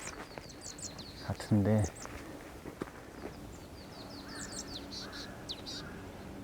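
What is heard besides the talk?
marsh tit calling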